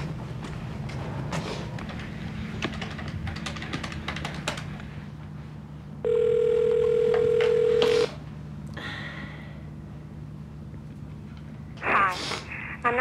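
A telephone call is dialed: a quick run of keypad tones, then a single steady ringing tone that holds for about two seconds, followed by scattered faint clicks and a short burst of noise near the end.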